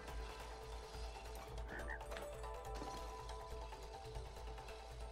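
A frog croaks in the video game It Takes Two, a faint, brief call set within a busy, noisy game soundscape.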